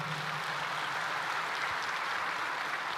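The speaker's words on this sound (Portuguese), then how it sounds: "Dá um aplauso aí ao Senhor." Church congregation applauding during a worship congress, a broad, even wash of many hands clapping at a distance, steady and unbroken throughout.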